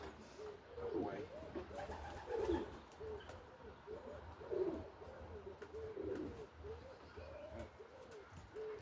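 Repeated soft, throaty pigeon coos rolling in a steady rhythm, close by, with faint background noise between calls.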